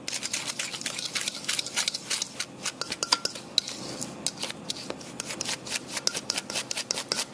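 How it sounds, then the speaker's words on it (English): A fork scrapes and presses egg yolks for a lemon custard pie while the bowl spins, giving close, uneven metallic clicks and rubbing strokes in a busy, irregular rhythm. "I'm using the same method of pressing it through the fork and spinning the bowl with the other hand"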